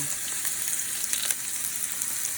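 Turkey tenderloin browning in grapeseed oil in a pan gives a dense, continuous hissing sizzle with faint crackles, close and steady throughout.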